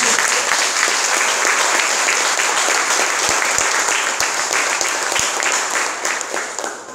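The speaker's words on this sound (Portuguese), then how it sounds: "Aplauda o Senhor." A church congregation at an INSEJEC service in Paranapanema applauds with a continuous, full wash of clapping, broken by a few low thumps, before tapering slightly at the end.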